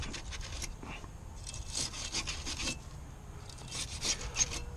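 Repeated scrubbing and scraping strokes clearing corrosion off the rear brake back plate of a Chevy Impala, a steady rasping rhythm in bursts, close and moderately loud with no talk.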